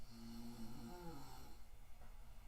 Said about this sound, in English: I think I have 2 kids snoring at this moment.